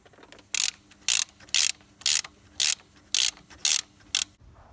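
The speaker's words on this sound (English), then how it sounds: "we can now undo the chain tensioner and put the tension back into the chain" A tool clicks through eight evenly spaced, loud ratcheting bursts over quiet shop background while the chain tensioner is undone on an Audi TT mk1 engine during rocker cover and cam gasket work.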